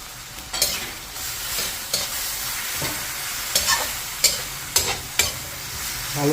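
Creamy corn soup with salt and ground black pepper being stirred in a pot: repeated spoon scrapes and knocks against the pot over a soft simmering sizzle, irregular strokes close by.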